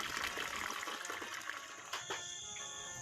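Tap water runs steadily into a container for soaking termite mushrooms, a continuous close hissing gush with a couple of small splashes partway through and no speech.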